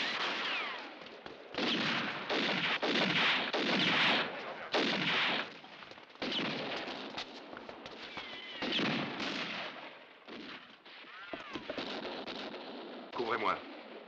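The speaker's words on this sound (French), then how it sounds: "Occupe-toi de la mitrailleuse." A machine gun fires in bursts during a French action-film shootout: repeated loud, rattling volleys separated by brief gaps, with battle noise and faint voices mixed in.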